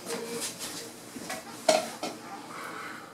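Washing soda being stirred into a bucket of hot water for homemade liquid laundry soap: a few soft scraping and clinking strokes, close and fairly quiet, with a sharper knock partway through.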